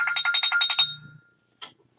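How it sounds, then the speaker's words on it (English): Mobile phone ringtone trilling in a fast repeated electronic pattern for about a second, then cutting off, followed by a brief soft noise; nearby and clear with no talking. "Excuse me, that's my phone."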